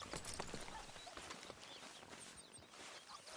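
Horse hooves clip-clopping in the video game Red Dead Redemption 2, a soft, steady patter of hoofbeats under a faint, noisy outdoor ambience.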